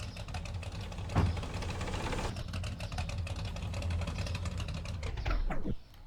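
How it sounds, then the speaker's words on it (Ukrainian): A pickup truck's engine runs roughly with a steady, uneven rumble and faint knocking, fairly quiet and close, cutting off abruptly near the end with no talking over it. "Да, Двигун у нього працює так собі."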